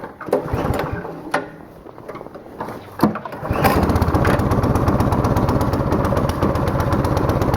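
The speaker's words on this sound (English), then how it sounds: "I'll let it warm up a little on choke" A Troy-Bilt 6 hp snowblower engine running on choke in below-zero cold, sputtering unevenly at first and then settling into a loud, steady, fast-beating idle that continues throughout.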